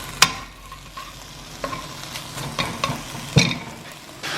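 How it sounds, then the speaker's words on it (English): Lardons fry in a hot pan for a spaghetti bolognese, giving a soft steady sizzle under sharp scraping and clacking knocks as they are stirred. "and get them frying up till it's nice and hot"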